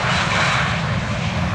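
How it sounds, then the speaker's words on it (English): A WestJet Boeing 737-700 jet passes low overhead on landing approach near an airport fence, its engine roar loud, broadband and steady throughout the short span with no talking. "WestJet 737-700. Approaching it."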